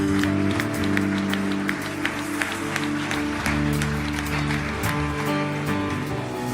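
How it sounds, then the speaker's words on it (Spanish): A church congregation gives sustained applause, dense clapping that runs steadily throughout over a low musical backdrop of held tones. "Le damos un fuerte aplauso al Señor."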